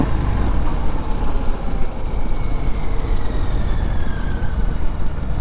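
A Harley-Davidson Street Bob motorcycle engine runs steadily nearby, a loud continuous low rumble with a faint rising whine, and no voices.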